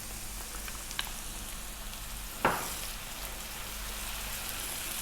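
Onions, garlic and cumin powder fry in a pan with a steady, close sizzle throughout, broken by one brief, sharper hiss near the middle.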